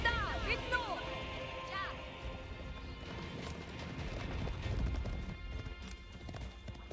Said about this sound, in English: Horse archers are going to chase